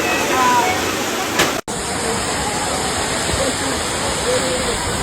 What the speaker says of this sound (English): Look at the mesmerizing beauty of this waterfall.